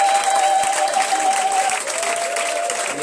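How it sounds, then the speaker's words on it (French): Church congregation applauding and cheering for Jesus, a loud, steady wash of clapping and crowd noise filling the whole stretch, with a sustained tone running beneath it. "Est-ce qu'on peut acclamer Jésus?"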